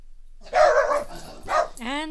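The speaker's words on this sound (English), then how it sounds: "And that's my dog barking." A pet dog named Chance barks close by in a few short, loud bursts, the last ending in a rising whine, while game audio plays quietly underneath.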